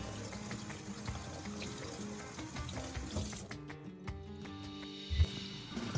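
Peeled potatoes rinsed under a running kitchen tap, a soft continuous splash and trickle of water with light knocks and clatter of the pot near the end, fairly quiet and close.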